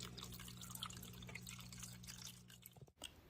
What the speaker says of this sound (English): This is a waterfall feature I made for a separate enclosure, so the water splashes to keep the humidity up.